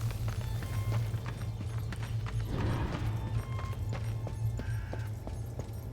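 Horse hooves clip-clopping in the video game Darksiders 2, a steady run of hoofbeats over a dense game soundtrack and ambience with no talking.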